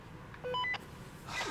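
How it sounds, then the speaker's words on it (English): A handheld electronic device in the horror game Blair Witch gives a quick run of short, clear, high-pitched beeps of different pitches, fairly faint against the quiet background. "Stop beeping!"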